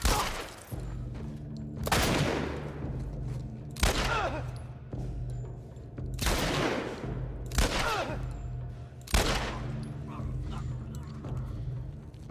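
Gunfire in The Last of Us while shooting enemies: about six sharp, loud shots spaced roughly two seconds apart, each with a short ringing tail, over a low in-game background.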